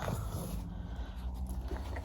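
A dog pants close by in a quiet indoor room, a soft, continuous rhythmic breathing with faint rustling and a few light mouth sounds, fairly low in level.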